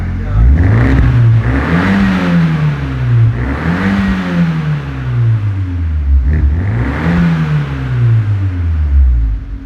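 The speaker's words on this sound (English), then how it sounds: "Sounds way less tin canny. It's got a low growl to it." A Fiat 124 track car with a new exhaust revs up and down several times nearby, loud and deep, a growling rise and fall that repeats in waves.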